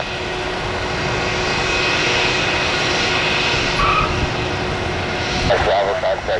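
A jet engine roars steadily, loud and close, as a Southwest Airbus A321 in a blue tail special livery powers up for takeoff, with a faint radio voice briefly over the noise.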